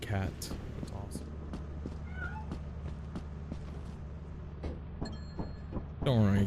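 A cat meows indoors while a Category 4 hurricane rages outside, its brief cries rising near the end over steady background noise and a person talking.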